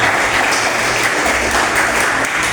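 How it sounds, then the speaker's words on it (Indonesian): A school audience claps together in sustained, loud applause, an even dense patter that holds for the whole stretch without talk over it. "tepuk tangan untuk kita semua"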